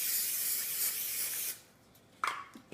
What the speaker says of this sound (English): I take my pan and I spray it.